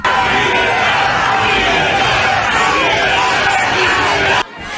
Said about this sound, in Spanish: Saludó a un centenar de simpatizantes que la recibieron con una ovación y gritos de libertad.